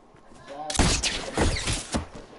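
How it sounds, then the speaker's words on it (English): Sniper rifle shot in an online duos shooter game, a sharp loud crack followed by further bursts of gunfire and impacts, with players talking over the action. "Oh, you got sniped!"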